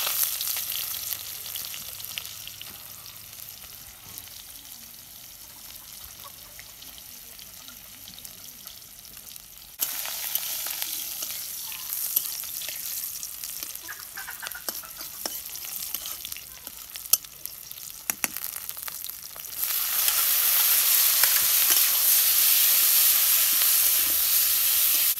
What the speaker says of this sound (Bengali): এখানে আছে আপনার শুটকি মাছ, তার মধ্যে পেঁয়াজ মরিচ প্রথমে কষিয়ে নেব।